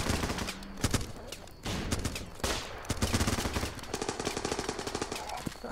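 Rapid bursts of gunfire in the video game Running with Rifles rattle loudly and almost without pause, automatic fire overlapping with heavier shots throughout.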